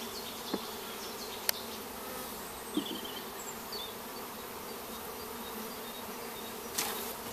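Honey bees buzz steadily around a beehive during a comb exchange, a dense continuous hum close by, broken by a few faint clicks and knocks.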